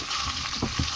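Mote, hominy corn, frying in a pan beside the cooking for seco de cuy, giving a steady close hiss of sizzling oil with a couple of soft stirring scrapes near the end.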